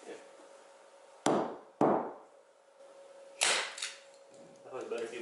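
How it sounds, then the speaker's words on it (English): Three sharp, loud impacts ring out at irregular intervals, like a hammer striking hard, each followed by a short decay over a steady background hum. "It's a hammer."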